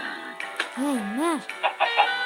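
A chicken clucks in the Monster High cartoon, voiced by a performer who imitates it with a few bobbing, wavering clucks and squawks, fairly close and loud against a quiet background.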